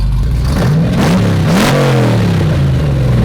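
A replica Lamborghini kit car engine runs close and loud, its low rumble rising and falling through a couple of short revs before settling back toward idle, with no talking.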